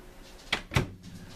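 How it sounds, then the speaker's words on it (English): A microwave oven door is pushed shut nearby, giving two quick knocks, a lighter latch click followed by a heavier thud, with quiet room tone around them. "We're going to shut the door."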